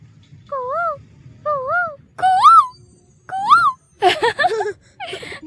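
A child imitates a cuckoo call with a series of clear, rising and falling whistled notes, repeated several times with short pauses and growing louder and more strained toward the end.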